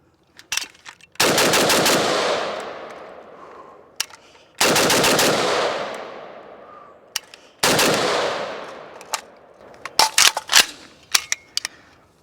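Riley Defense 7.62x39 Krink rifle firing outdoors, three loud rapid bursts of automatic fire with ringing decay, followed by several scattered single shots near the end.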